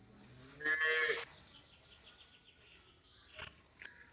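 Farm cattle low loudly before feeding, with one long, drawn-out moo up close and then shorter, fainter calls from other cows further off.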